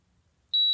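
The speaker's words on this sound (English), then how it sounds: "And then it'll beep." A Yashio Factory Water Temp V2 gauge, switching to battery-voltage mode on a nearly dead battery, gives one steady high-pitched electronic beep. It starts partway through, is clear and close, and sounds alone.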